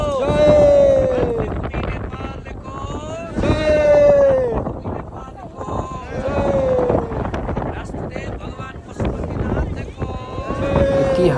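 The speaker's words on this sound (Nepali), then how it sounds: "यति हावा छ" Strong wind gusting across the high, cold trail in Upper Mustang near the China border, roaring in waves against the microphone while a person talks over it.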